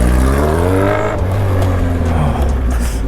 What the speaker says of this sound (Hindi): भाई बड़ी गंदी वाली आवाज आ रही है बिना एग्जॉस्ट के